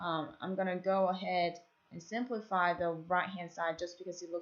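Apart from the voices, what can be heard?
No distinct noise like a dog, phone or traffic.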